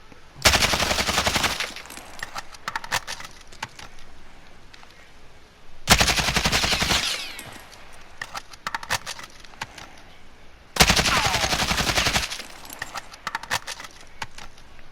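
AK74 rifle fire in Modern Warfare, heard as three loud, sustained full-auto bursts of about a second each, separated by quieter stretches of clicking and rattling handling noise.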